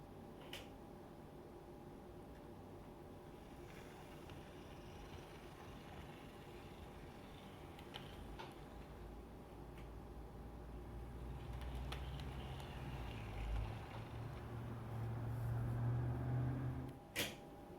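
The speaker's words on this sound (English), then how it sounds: "With the MTH muted, here's how smooth the drivetrain is even after a couple months of fairly good to hard running." An MTH GE Evolution Hybrid model locomotive runs with its sound system muted, giving a faint, smooth drivetrain hum with occasional light clicks and a soft rise in motor whir near the end.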